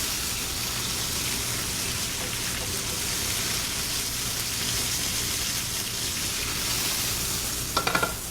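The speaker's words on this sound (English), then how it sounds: "I'm now going to drain the oil." Hot oil and chicken drippings sizzle and crackle steadily as grease is drained from a pan of browned chicken, a continuous frying hiss with a few sharper clatters near the end.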